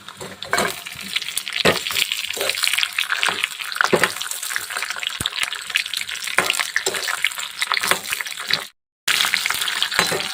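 Chopped green chillies fry in hot oil with cumin and garlic, giving a loud, steady crackling sizzle with stirring scrapes and a brief dropout near the end, without talk.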